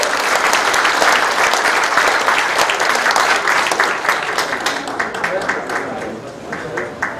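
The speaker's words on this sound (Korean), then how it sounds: "여러분 뜨거운 박수 부탁드리겠습니다" Warm, sustained applause from a crowd at a campaign office opening in Yangpyeong, welcoming a visiting National Assembly member; dense clapping holds steady near the mic, then thins slightly toward the end.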